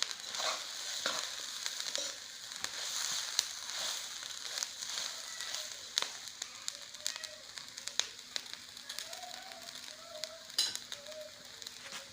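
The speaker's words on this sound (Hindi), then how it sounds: "चूल्हे की आंच हम हल्की कर देते हैं क्योंकि इस टाइम दाना गर्म हो चुका है फुल" A winter bird seed mix roasts in a pan over a stove turned to low heat, giving a steady soft sizzle and crackle with scattered small pops and light stirring noises throughout.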